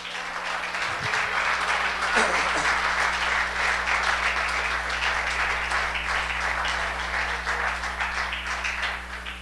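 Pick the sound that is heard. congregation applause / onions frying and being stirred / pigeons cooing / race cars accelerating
congregation applause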